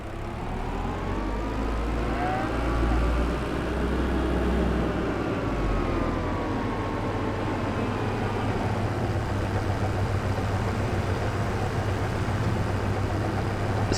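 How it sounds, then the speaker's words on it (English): Tractor engine fitted with a front loader in Farming Simulator 25, a steady low rumbling drone that holds constant and close throughout, with a slight swell in pitch early on and no voices. "I've got the front loader on the tractor now"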